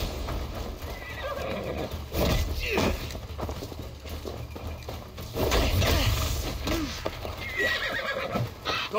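A horse whinnies several times in Assassin's Creed Valhalla over clip-clopping hooves and dull thuds, with game-like background noise and some voices mixed in.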